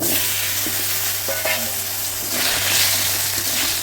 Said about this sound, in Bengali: এবার আলুগুলো ছেড়ে দিলাম।